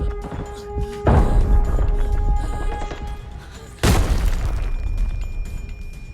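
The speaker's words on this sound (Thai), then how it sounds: "แม่ระเบิดลูกนี้นี่ทำเอาเกือบตายครับผม" Two heavy grenade explosions in the video game Arena Breakout, one about a second in and a louder one near four seconds, each a broadband boom with a rumbling tail over ongoing game noise.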